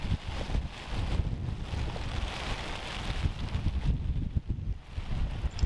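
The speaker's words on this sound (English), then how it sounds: "The old wind got up as well." Strong wind buffets the microphone in continuous gusty roar at a carp fishing lake in Brehal, Normandy, loud and steady with low rumble throughout.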